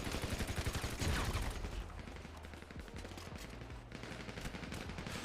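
Dense bursts of automatic gunfire in a first-person shooter video game, loud and continuous with rapid overlapping shots throughout, no talking.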